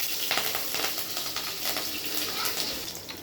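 Whole cumin seeds and a green chili sizzle and crackle in hot oil, a steady loud frying hiss with small pops throughout and no talking.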